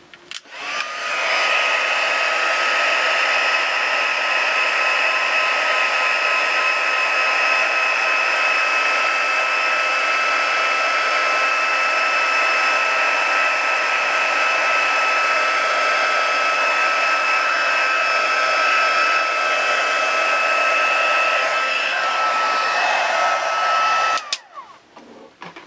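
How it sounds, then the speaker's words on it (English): Blow dryer drying a watercolor painting, running as a steady, loud, close whooshing roar for about twenty-three seconds, then switching off abruptly. "I'm going to blow dry this just for a second here"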